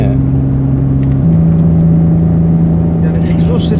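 Opel Omega 2.5 exhaust note while driving, a steady low engine drone that shifts pitch partway through as the car cruises, with road rumble and people talking over it inside the car.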